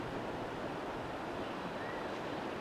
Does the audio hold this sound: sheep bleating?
no